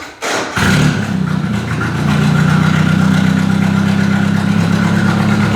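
A car or truck engine cranks with a thud, catches and settles into a steady, loud idle that runs close by for several seconds, with no talking over it.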